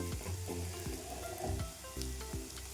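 A spoon stirs spiced potato bhaji in a hot pan, with steady sizzling under repeated scraping strokes against the metal, several distinct stirs in a few seconds, close and fairly quiet.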